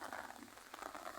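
Light rain falls in a steady, faint patter of fine drops on a surface, with no talking.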